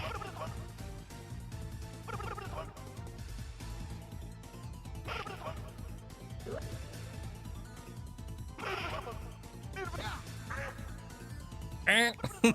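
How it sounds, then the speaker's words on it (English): Duck quacking sound effects from the video game Persona 1 play over game music and background sound, with a few quacks standing out, the loudest burst near the end. "the duck sound effects on those"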